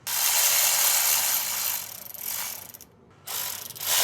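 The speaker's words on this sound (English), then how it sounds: "now I've got my 5 millimeter Allen, and we're just gonna loosen these bolts" Ratcheting clicks from a 5 mm Allen key loosening the oil-drain cover bolts on a motorcycle chain cover, a dense run of pawl clicks that pauses briefly before resuming, close and alone.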